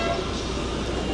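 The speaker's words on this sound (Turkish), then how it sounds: "korna sesleri aynı Türkiye gibi" Car horns toot amid busy Tashkent street traffic, a short burst of honking over a steady road roar.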